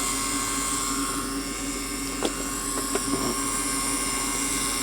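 A continuous high-pitched whine of a drill running steadily, drilling into a Hot Wheels diecast '55 Chevy, with a few faint clicks and taps, no talking.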